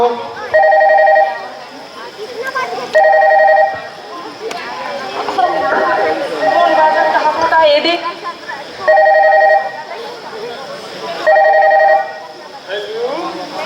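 A telephone rings in short repeated trills about every two seconds, with people talking and chattering in between.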